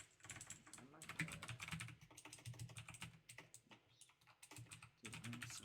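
Keys on a computer keyboard clatter in quick, uneven bursts of clicks with short pauses, heard faint and near.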